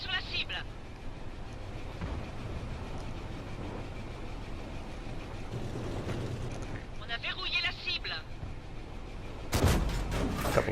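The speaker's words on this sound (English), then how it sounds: "A blind shot there." In the World of Tanks console game, a tank's main gun fires a blind shot: a loud, sharp blast near the end, after a stretch of low rumbling engine and battle ambience.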